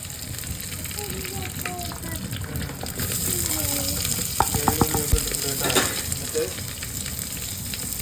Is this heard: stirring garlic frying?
yes